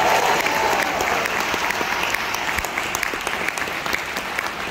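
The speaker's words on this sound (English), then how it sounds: "How about a round of applause for Mr." Audience applause for Mr. Tony Kupas at an Emerge 2021 event in Atlanta, a steady, dense crowd clapping that holds evenly throughout.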